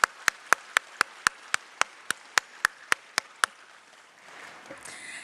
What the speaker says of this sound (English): can we just give a round of applause to Professor Yi Cui and Professor Kai Lee